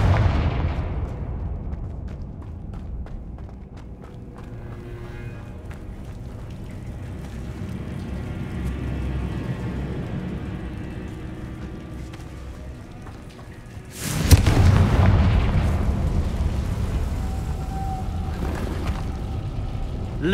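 Loud fiery blasts from the Confringo spell in Hogwarts Legacy on PS5, rumbling battle noise building before a sharp, heavy explosion burst near the middle, followed by sustained crackling and booming.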